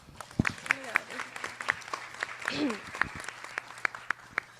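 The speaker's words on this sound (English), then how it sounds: "Let's give yourselves a round of applause." Sparse, scattered clapping comes from an audience at a community candidate forum, individual claps popping out over a low hum, with a voice speaking briefly partway through.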